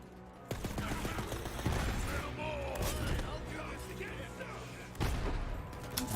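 Explosions and gunfire in the Borderlands 3 video game, a dense burst of blasts and shots with sharp impacts near the start and around the five-second mark, mixed with game effects over a steady loud bed.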